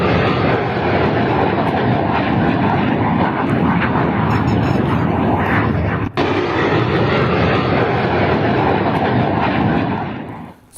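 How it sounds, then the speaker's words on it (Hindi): A Pakistani fighter jet flying over trees near the border, a loud sustained roar that fills the sound for about ten seconds before trailing off, with no talking. "पाकिस्तान का लड़ाकू विमान आप देख रहे हैं, ये जो पेड़ के ऊपर आपको जाता नजर आ रहा है,"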